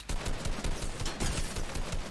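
Rapid gunfire spray in the video game Fortnite, a dense burst of repeated shots that keeps up steadily and loudly for about two seconds.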